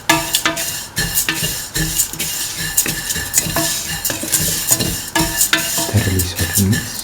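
Vermicelli being stirred with cardamom and clarified butter in a pan, with rapid repeated scraping and clinks of a utensil against metal over a light sizzle, close and busy, with no talk.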